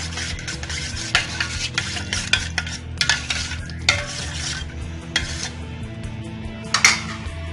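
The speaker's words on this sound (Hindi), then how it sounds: "अच्छी तरह से मिक्स करेंगे।" Falsa sharbat being stirred after salt is added, a utensil clinking and scraping against the vessel in repeated, irregular strokes, close and fairly loud, with no talking.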